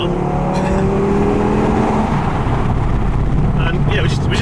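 A 650bhp hybrid turbo Audi RS3 pulls hard in third gear, its engine note rising in loud tonal sweeps, then easing into a short-shifted drone with turbo whooshes. A driver's voice talks over the engine.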